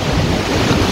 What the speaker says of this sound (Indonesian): cukup ramai dengan suara ombak ya.